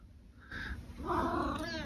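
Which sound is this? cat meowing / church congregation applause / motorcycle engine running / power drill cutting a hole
cat meowing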